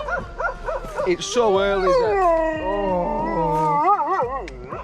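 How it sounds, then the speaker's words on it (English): Guard dogs bark and howl early in the morning, close by, with wavering howls and short yips while a person talks over them. "the guard dogs are still out, so causing a bit of a nightmare this morning"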